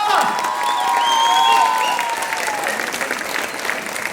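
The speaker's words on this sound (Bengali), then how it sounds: "আপনারা সকলে প্লিজ আরেকবার ওদের জন্য হাততালি দেবেন।" An audience claps at a college art event, a dense, continuous burst of applause with a few faint whistles or voices mixed in, loud and close, easing slightly toward the end.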